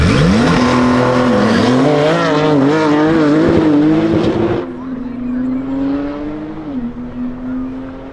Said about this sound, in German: So, da haben wir wieder den grünen Porsche 92 Carrera. Auf der rechten Bahn, Zollklasse.